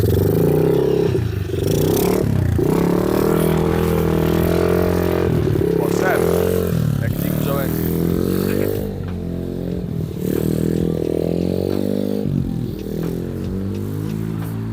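A Kayo 90 TS pit bike engine revs and rides off, its harmonic drone rising and falling steadily through gear changes, close and loud, with people talking over it.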